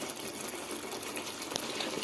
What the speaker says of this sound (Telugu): చూసారా ఎలా మరుగుతుందో?